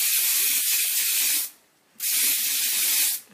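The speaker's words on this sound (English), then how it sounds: "Let me get some hairspray." Hairspray hisses from an aerosol can onto a wig in two long, close bursts separated by a short pause, with no talking.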